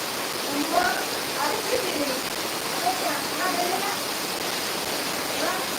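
Heavy monsoon rain pours down in a dense, steady roar that holds at an even level throughout, with faint voices murmuring underneath.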